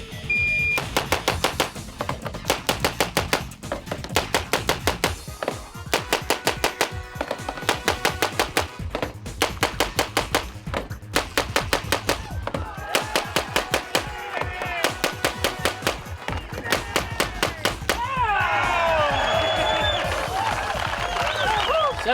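Rapid bursts of gunfire in a timed world record shooting run, sharp repeated shots in quick strings separated by short pauses, followed by cheering and applause at the end.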